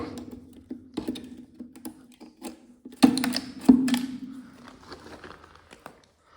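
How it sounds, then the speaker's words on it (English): A tool scrapes calcite deposits off a manway surface inside the Yellowhead Mine, making irregular close scratching and clicking strokes with a couple of louder harsh scrapes in the middle. "Let me scrape some of that calcite off of there."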